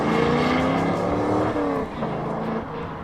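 A Chevrolet Corvette's engine drones loud and steady on a race track, its tone shifting as revs rise and fall through a corner, with a faint tire squeal, and no talk over it.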